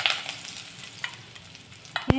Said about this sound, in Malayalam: കടുക് പൊട്ടിക്കഴിയുമ്പോൾ ഇതിലേക്ക് കറിവേപ്പില ചേർത്ത് കൊടുക്കാം.